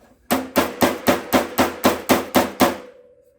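A hammer strikes a metal body panel during metal bumping, nine sharp, evenly spaced blows close up, with a faint ringing hum after the last strike.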